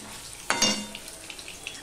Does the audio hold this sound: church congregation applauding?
no